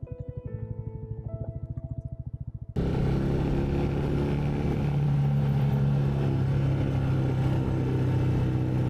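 A heavily loaded motorcycle descends a dusty mountain road in Zanskar, Ladakh, its engine holding a steady loud drone close up after a brief patch of quieter idling.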